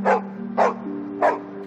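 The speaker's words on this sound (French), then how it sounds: "Qu'est-ce que ça vous fait de le voir aboyer?" A dog barks three times in a steady rhythm, close and loud, over a low constant hum, with no talking.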